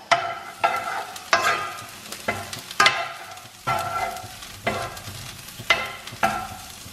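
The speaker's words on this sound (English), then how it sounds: "just give it a good stir." Chili sauce with about a teaspoon of cinnamon being stirred in a pan, giving repeated scraping strokes roughly every second over a low sizzle, close and fairly loud, with no talking.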